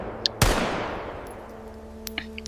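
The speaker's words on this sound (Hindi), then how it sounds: "तभी गोली चलने की आवाज आती है" A gunshot sound effect in a Hindi audio drama, with one sharp loud blast followed by a long decaying echo and faint clicks afterward, and no talking.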